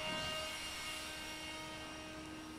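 An EGO 765 cordless leaf blower drying a Nissan 350Z, a loud steady high-pitched whirring roar with a constant whine, close by and continuous throughout, with no talking.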